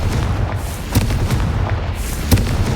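A Confringo spell explosion in the Hogwarts Legacy video game gives a few heavy booming blasts over a dense, continuous low rumble. The blasts land in a loose, irregular rhythm and are loud and close.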